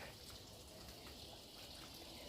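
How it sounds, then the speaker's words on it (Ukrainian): A tap drawing borehole water is opened only slightly, giving a steady, close, moderately quiet hiss of running water that holds evenly throughout with no voices. "Це вода йде зі свердловини. Ми отак його трошки відкриваємо, не повністю, зовсім трохи."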